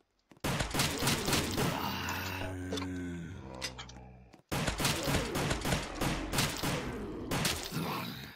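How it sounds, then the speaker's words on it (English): Rapid automatic gunfire in the Roblox zombie game Rise of the Dead, two long bursts of close, loud shots in a fast steady rhythm, split by a brief pause, with tonal game sounds and mechanical clicks under the first burst. "I'm just gonna use this gun until I run out of ammo."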